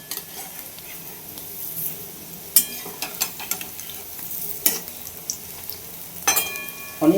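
Small shrimp fritters fry in a pan of hot oil with a steady crackling sizzle, interrupted by several sharp clinks and scrapes as they are turned over; no speech.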